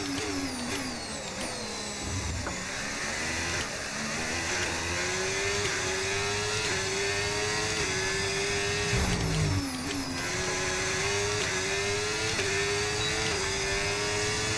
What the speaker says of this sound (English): It sounds so much better, the Ferrari power unit.